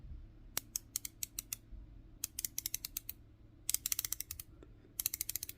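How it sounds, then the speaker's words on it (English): Rotating bezel on a Valimor Kilgharrah knight-and-dragon themed watch, a 60-click bezel, turned in quick bursts of crisp, close ratcheting clicks with short pauses between runs, quiet background and no talking. "Now then, the bezel on this is a 60 click."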